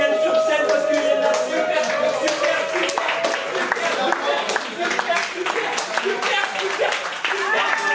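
A slam poetry audience at La Zonmé in Nice applauds as a performer named Jean-Paul comes on stage, dense sustained clapping with a voice briefly speaking over it.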